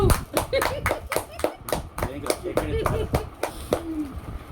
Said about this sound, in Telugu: వావ్ చప్పట్లు చప్పట్లు